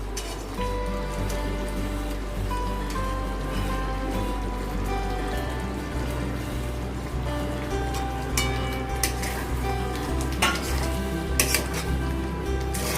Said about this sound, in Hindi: अभी मैं एग्स डाल देती हूँ।